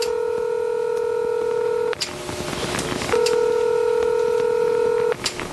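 Telephone keypad dialing tones from a Bat Phone: two long steady DTMF tones, each lasting about two seconds, separated by a brief gap with faint background noise, clear and close.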